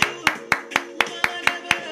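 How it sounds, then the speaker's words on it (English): Slow, evenly spaced claps from one pair of hands, roughly four per second and close by, ring out steadily in a Trinidad and Tobago preacher's street talk. "And round of applause, brother."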